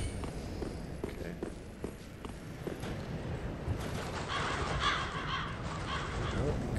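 Crows caw repeatedly in the Dark Souls 3 video game, harsh calls clustering toward the end over a bed of running footsteps and game ambience.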